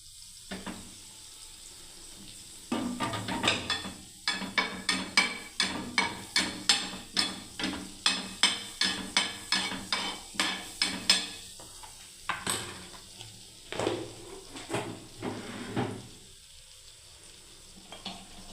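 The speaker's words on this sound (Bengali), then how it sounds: "এবারে বাটারটা ভালোভাবে গলে যাচ্ছে দেখুন।" Butter melting in a hot pan before roti goes in: steady close sizzling with a run of rhythmic scraping strokes that pulse through the middle, then fade back to a softer sizzle.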